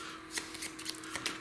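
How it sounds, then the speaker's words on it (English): Quiet riffling and soft snaps of Flamme Rouge board game cards being shuffled, a few crisp bursts over a low steady hum. "and then I need to shuffle."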